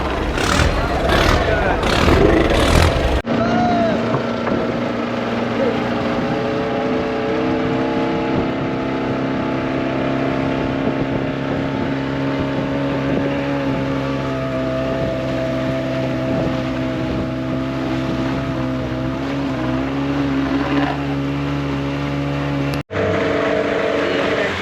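A fishing boat's engine off Beypore, Kerala, drones loud and close in a steady, heavy hum for about twenty seconds, after a brief burst of rougher noise at the start.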